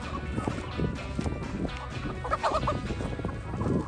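Free-ranging turkeys and chickens gobble and cluck together in a busy backyard flock, a loose, overlapping chatter of warbling gobbles and short clucks close by, with shuffling and movement underneath.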